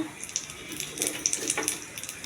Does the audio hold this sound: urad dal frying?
yes